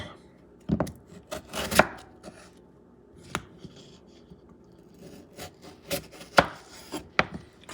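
A potato for chips is peeled with a series of short, close scraping strokes and light knocks, irregularly spaced, with quiet pauses between them and no talk.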